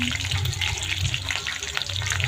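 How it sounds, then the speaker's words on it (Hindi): Onions sizzle in hot oil in a home kitchen, a steady, close hiss of frying that continues without pause and with no talk over it. "तो तेल गर्म हो गई है, तो यहाँ मैं डाला था सबसे पहले प्याज।"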